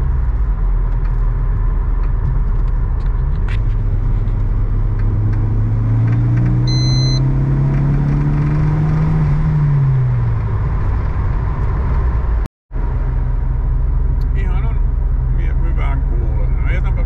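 A Volvo 940 Turbo's deep, steady rumble through a new stainless steel exhaust drones in the background, with the engine tone rising and falling smoothly once midway; people talk over it.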